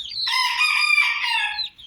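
A rooster among farm-raised chickens gives one loud, close, drawn-out crow of nearly two seconds against a quiet background.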